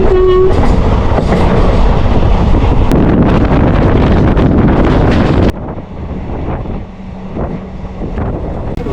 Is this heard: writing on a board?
no